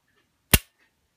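A single sharp, close click as the trigger of a custom M&P 9mm pistol breaks during a dry fire, set against near silence.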